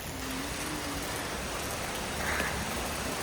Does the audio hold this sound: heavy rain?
yes